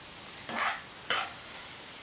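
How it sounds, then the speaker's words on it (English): Seasoned zucchini, salted and peppered, is stirred in a pan, giving two short scraping, sizzling sweeps about half a second apart, close and moderately loud with quiet pan hiss between them. "give this a quick stir"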